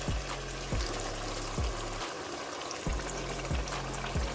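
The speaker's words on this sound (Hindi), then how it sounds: "तो अब हम इसमें टमाटर और मिर्चें वो ऐड कर" Tomatoes and green chillies frying in masala for baingan masala, a steady loud sizzle with regular low thumps of stirring recurring roughly every second, close up and without talk.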